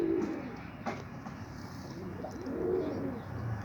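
Pigeons or doves in a loft coo in low, rolling calls, two clear bursts standing out from steady background noise, fairly close.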